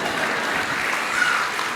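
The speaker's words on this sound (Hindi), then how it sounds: "देखो छोटा भाई कैसा ताली बजा रहा" A small child clapping hands indoors, a steady broadband patter of claps at moderate level running throughout the short stretch, with no talk over it.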